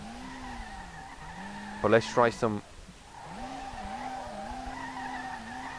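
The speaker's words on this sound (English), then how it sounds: "The car does drift nice" Tires squeal in wavering arcs as a car drifts through a tight track in the SLRR racing game, engine droning beneath; someone speaks briefly midway over the squealing.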